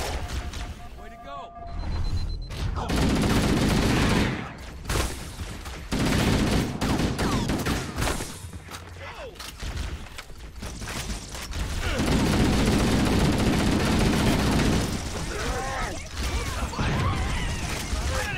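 Gunfire in the video game Halo CE, bursts of shots and explosive crashes running through the scene with a voice talking over parts of it.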